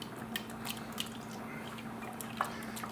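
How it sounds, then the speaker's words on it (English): A spoon stirs a wet sauce with Worcestershire in a pot, making soft liquid squishes and light clinks over a steady low kitchen hum, with no voice. "We're gonna stir this up, get it nice and hot."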